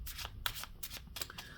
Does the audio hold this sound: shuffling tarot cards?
yes